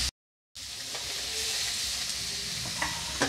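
Ridge gourd tipped into a pan of frying mixed vegetables seasoned with salt and turmeric sets off a hissing sizzle after a brief silence, steady and moderate, with a couple of small clinks near the end.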